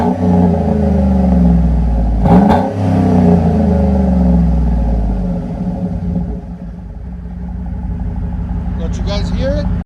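A 2009 Chevy Silverado with a 5.3-liter V8 and side-exit exhaust roars loud and close, its deep rumble swelling through a sharp rev midway before settling into a throbbing idle that fades slightly.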